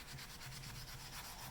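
Wet sanding of a gun stock with 400 grit sandpaper gives a soft, rhythmic rubbing rasp, repeated short strokes close by and quiet, with no talking.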